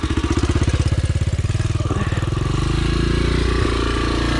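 A dirt bike engine runs close and loud through its muffler, its fast firing pulses throbbing evenly, then smoothing into a steadier, higher drone as the throttle is held.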